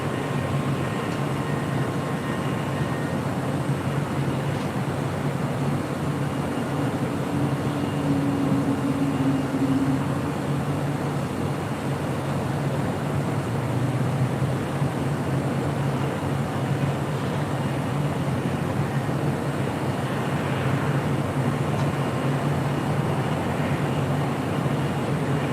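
A Delta Airlines A330neo arriving at LAX from JFK gives off a steady, far-off jet roar that drones evenly with no voices over it.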